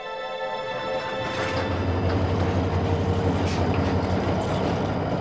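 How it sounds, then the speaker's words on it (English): A train rolls along railway tracks in Africa with a steady low rumble and a faint rhythmic clatter of wheels, continuous and fairly close, with no voices. "even this train and the track it rides on lie at the heart of my story"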